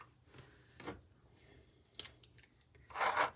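Washi tape is peeled, torn and pressed onto a paper savings challenge book, giving a few short quiet ripping and crinkling bursts close up with a sharper tear at the end.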